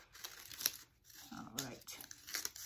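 Scissors snip through folded paper to cut out a pair of puppet wings, giving quiet, close crinkling and crisp cutting sounds in short bursts.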